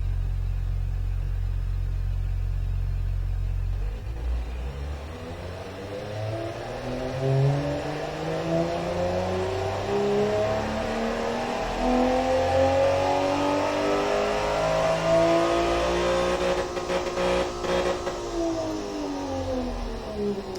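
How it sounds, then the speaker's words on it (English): A car engine built in the Automation car-tycoon game, fitted with a long tubular straight-through race exhaust, idles low, then revs up in a long climbing sweep, holds high, and drops back down, loud and continuous with no talk. "Hey, it sounds like an engine."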